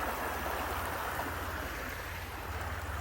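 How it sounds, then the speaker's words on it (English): Small stream of water flowing under a footbridge in a park, a steady, close broadband rushing and gurgling that stays even throughout with no voices. "A little water coming down, stream."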